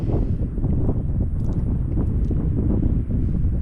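Gusty wind buffeting the microphone in a continuous low roar, close and fairly loud, with no speech.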